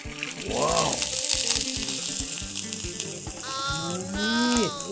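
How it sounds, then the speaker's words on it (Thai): Steady broadband sizzle of oil heating in a pan, with a voice talking over it and a brief animal-like bleat. "ใส่น้ำมันนิดนึงเนาะไม่ต้องเยอะ นิดนึงประมาณนี้ฟังเสียงนะครับทุกคน"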